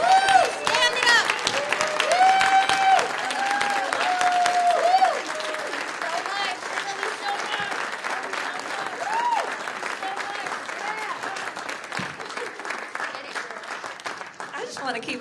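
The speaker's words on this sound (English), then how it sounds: "Let's give her a round of applause." Audience applause and cheering at a summit, a loud extended ovation with whoops and shouts, and voices calling over the clapping.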